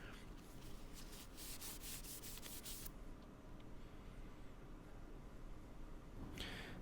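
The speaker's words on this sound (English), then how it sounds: "But I'll polish it up with some sandpaper and then some wax" Sandpaper rubs over a piece of oak burl cast in Alumilite resin in quick, scratchy back-and-forth strokes for about three seconds, then stops, leaving low steady noise before one last short scrape.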